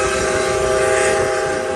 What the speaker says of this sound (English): the 765 is borrowing the 3001's whistle as a sort of